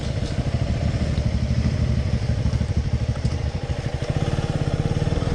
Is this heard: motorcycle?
yes